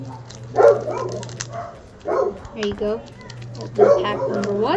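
A dog barks indoors in a few separate bursts, spaced out across the moment, while a person talks over the barking.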